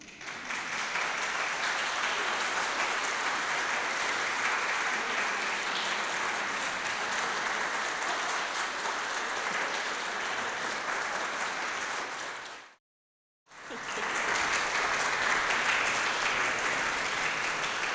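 Audience applause after a song at a recital, a dense steady clapping that fills the room for about twelve seconds, breaks off into a brief silence, then resumes at full strength.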